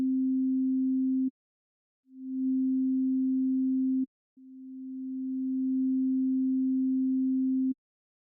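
A pure synth sine tone at a steady pitch, first held and cut off, then returning with a short swell into its peak, then fading in gradually and holding before stopping abruptly; clean and alone.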